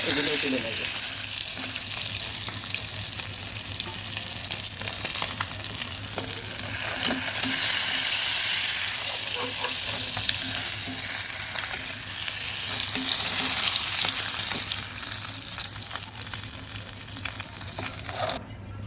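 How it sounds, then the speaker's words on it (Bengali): Koi fish frying in hot oil in a kadai while being turned over, a steady dense sizzle with scraping stirs, continuous and close throughout. "উল্টে পাল্টে ভেজে নিচ্ছি দ্বিতীয় ব্যাচের মাছগুলো"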